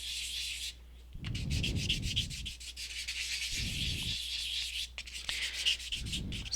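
Polymer clay pendant rubbed with 400 grit sandpaper in three bursts of close, steady rasping strokes, rhythmic scratching broken by short pauses; no talking.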